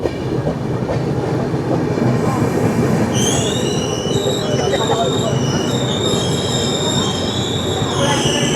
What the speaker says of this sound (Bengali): আমাদের ট্রেন এসে পৌঁছে গেছে ব্রহ্মপুর স্টেশনে